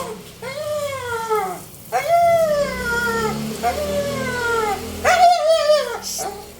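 Dogs whine and yelp in a string of rising, drawn-out cries, fairly close, with a few sharper yips among them.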